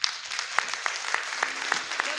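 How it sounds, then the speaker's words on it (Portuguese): Congregation clapping in a rhythmic, fairly even beat during a morning family church service, with a wash of looser claps beneath the steady pulse and no speech. "Dá uma linda salva de palmas ao Senhor nessa manhã."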